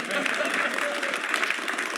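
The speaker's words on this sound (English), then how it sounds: "Applaud, everybody." Crowd applause, a dense wash of clapping from many people, steady and moderately loud throughout.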